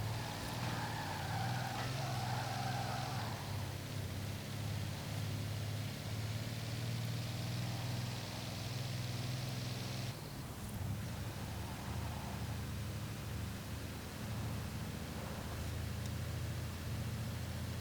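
A steady, droning engine note from a 1933 Napier-Railton racing car in Forza Horizon 4 runs throughout with a constant low rumble and hiss, briefly shifting in tone partway through, with no one speaking.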